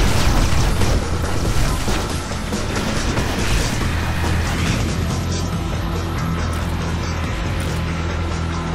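Heavy bomb explosion in the video game Gun Metal, a dense booming crash that rolls into sustained rumbling debris and mechanical roar, loud and continuous with no talk.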